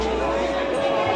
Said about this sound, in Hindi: देखिए यहाँ का क्राउड पूरा भीड़ है, बहुत सारा भीड़ भाड़